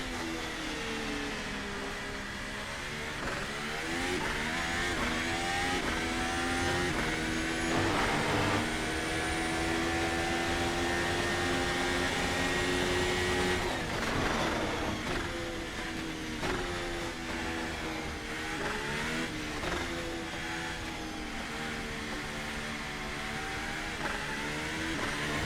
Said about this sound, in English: give you a quick listen to this car in action